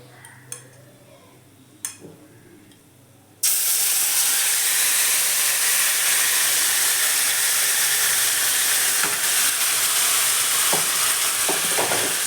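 Chicken hits a hot pan and erupts into a loud, dense sizzle after a few quiet seconds with small clinks, then keeps frying steadily with occasional stirring scrapes.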